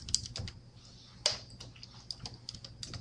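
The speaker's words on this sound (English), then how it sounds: "So type in your word." Faint, quick clicks of fingers typing words on a computer keyboard, irregular taps with a few sharper key strikes over a quiet background.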